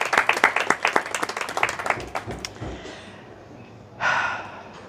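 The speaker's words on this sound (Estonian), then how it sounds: "Ja aplausiga Laurina." Brief burst of audience applause at a book launch, close individual claps that quickly thin out and fade, followed by quiet room sound and a short breathy noise near the end.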